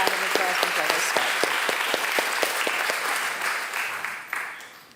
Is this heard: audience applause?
yes